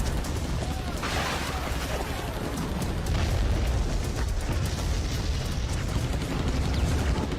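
A rocket-propelled grenade shell explodes in an animated war series, heard as a dense, sustained roar of blast and debris filling the whole stretch, loud and close with rumbling lows and no pause.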